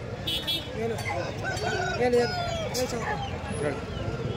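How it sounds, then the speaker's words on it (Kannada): A rooster crows amid clucking chickens at a village poultry market, with steady crowd babble and nearby voices throughout. "ನೋಡಿ ಸ್ನೇಹಿತರೆ, ಇದು ತುಂಬ ಚೆನ್ನಾಗಿದೆ ಹುಂಜ"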